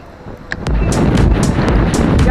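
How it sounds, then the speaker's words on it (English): Strong gusts batter a microphone outdoors while fishing in extreme wind, a loud, continuous low roar with rough buffeting that kicks in suddenly and holds steady. "The wind was blowing like crazy."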